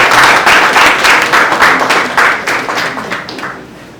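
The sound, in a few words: audience applause at a workshop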